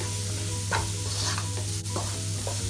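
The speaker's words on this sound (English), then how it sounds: "So stir well." Vegetable fried rice with crushed black pepper and salt being stirred in a hot pan, with a continuous sizzle and several distinct scraping strokes at an irregular pace and no talking.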